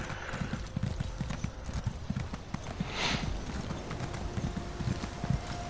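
Horse hooves clip-clop steadily on the ground in Elder Scrolls Online on PS4, a continuous rhythmic run of close, moderately loud hoofbeats over a faint game ambience.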